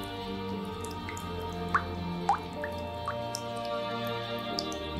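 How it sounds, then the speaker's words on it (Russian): Rain drips steadily in a quiet outdoor setting, a few distinct drops landing over a soft constant background hiss with no talking. "Дождь усиливался и постепенно начинало темнеть."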